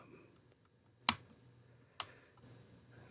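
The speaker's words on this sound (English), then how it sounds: "Hopefully the clicking won't be too loud for you all." Computer mouse clicks while playing Mini Airways, two sharp, close clicks about a second apart over a faint quiet background.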